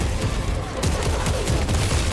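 Gunfire in the video game Space Marine 2, a dense continuous fusillade of rapid shots and booms, loud and unbroken throughout without talk.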